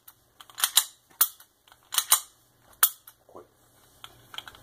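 Smith & Wesson SD9 VE 9mm pistol being dry-fired, a series of sharp mechanical trigger clicks and snaps close to the microphone, spaced about a second apart with quiet gaps between.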